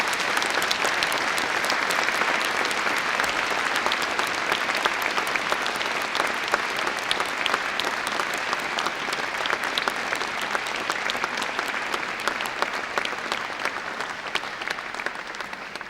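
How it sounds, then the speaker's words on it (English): A large graduation audience applauds families and friends, dense sustained clapping from many hands filling the hall at an even, loud level for the full stretch without pause. "Let's applaud them."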